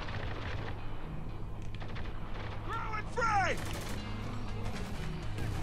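Gunfire crackles in the video game Spec Ops The Line, bursts of shots and mechanical clatter under constant background rumble, with a short sharp flurry in the middle and a player's voice talking over it.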